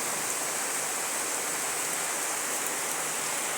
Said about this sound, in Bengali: এই দেখো বৃষ্টি পড়ছে, এখন তো রোজই বৃষ্টি হচ্ছে